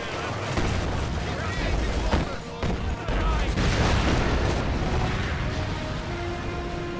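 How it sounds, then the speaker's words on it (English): Heavy explosive detonations in the WWII strategy game Company of Heroes 2, a loud, dense roar of blasts and rumbling booms that swell over the whole stretch, with a voice speaking over the din. "Detonate the explosives!"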